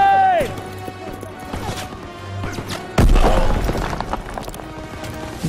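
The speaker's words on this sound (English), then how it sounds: "Grenade!" A grenade blast in Call of Duty WW2 bursts loudly about midway, a heavy crash with debris over ongoing battle noise, while someone shouts nearby.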